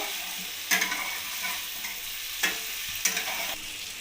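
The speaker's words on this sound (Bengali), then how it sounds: "ফুলকপিটা দিয়েও আমি ভালো করে মশলার সাথে কষিয়ে নেব" Cauliflower stir-fried with spices in a pan: a soft sizzle runs underneath, broken by three or four clear scraping strokes of the spatula spaced unevenly, all close by and without speech.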